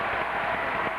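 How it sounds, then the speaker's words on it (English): Crowd cheering at a 1994 UAAP college basketball game between Ateneo and La Salle, a steady, dense roar of many voices filling the arena, brief and continuous with no distinct individual sounds. "The cheering continues as far as the Blue Babel Battalion is concerned"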